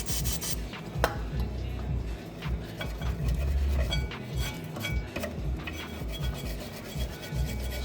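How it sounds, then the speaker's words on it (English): Gunk is scrubbed out of a brake caliper on a Mazda 3 MPS, a continuous close rubbing and rasping with occasional small ticks and knocks of the tool. "So we're just cleaning the gunk out of there right now"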